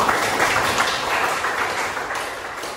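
A class of students applauding a classmate after a presentation on HIV/AIDS, steady dense clapping filling the room for a few seconds and tapering slightly at the end.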